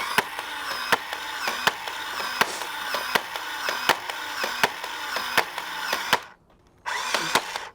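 A Nerf Halo Needler blaster fires Adventure Force darts in a rapid series of sharp, regular clacks over a whirring motor, close and loud, stopping briefly before starting up again.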